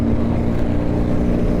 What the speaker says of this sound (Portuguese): Esse carro faz um barulhão.